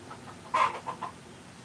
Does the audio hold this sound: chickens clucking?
yes